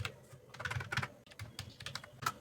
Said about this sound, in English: I type city name, click search or enter.